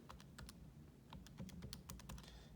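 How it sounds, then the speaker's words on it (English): Equations being typed on a computer keyboard: a quick, uneven run of close, crisp key clicks, fairly quiet, with no talking. "I'm gonna type in both equations."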